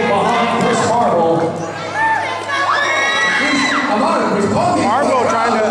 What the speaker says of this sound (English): you can hear the crowd getting behind Chris Marval